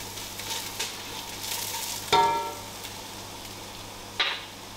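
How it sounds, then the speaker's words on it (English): Browned onions and chopped garlic frying in a pan are stirred, giving a steady sizzle with a few sharp scrapes of the utensil against the pan. "Give this a stir."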